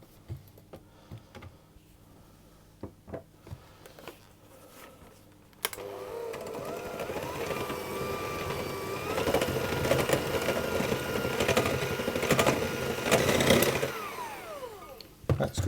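Egg yolks whisked into tart batter, faint clinks at first, then a steady brisk whirring whisk from about six seconds that grows louder and busier before stopping, close by with no talking.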